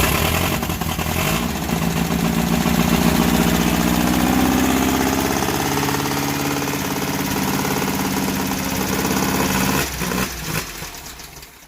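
Volkswagen Baja Bug engine, choked, running at a steady loud idle close by for about ten seconds with a rough low rumble before it quiets toward the end.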